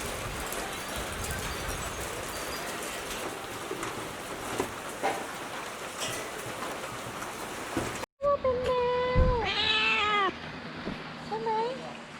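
Steady rain patters for several seconds, then a cat meows close by in a series of rising, wavering cries.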